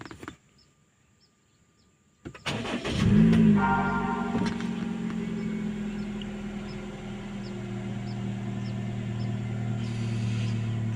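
Someone tries to start a Perodua Myvi G3 car: near-silence, then an abrupt mechanical clunk followed by a steady, droning low hum that continues for the rest of the clip.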